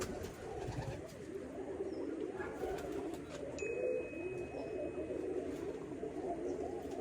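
Soft pigeon coos murmur through a low, steady background, with a few faint chirps overhead.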